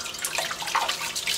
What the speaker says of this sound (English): give it the last bit of rinse under clean water